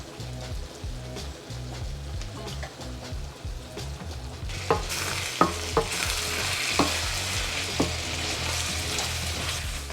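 Chicken pastil is stirred in a pan after soy sauce goes in: a steady rhythmic scraping over a continuous sizzle, louder and brighter in the second half.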